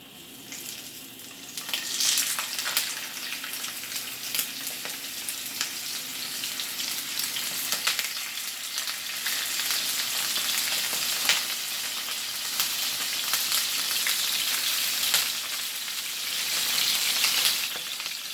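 Goan-style prawns fry in a pan with a loud, continuous sizzling hiss that swells and settles over about eighteen seconds, with no voices.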